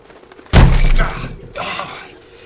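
Pigeons crash into windows in a film scene, a sudden loud thud of glass breaking, then a second shattering burst a moment later.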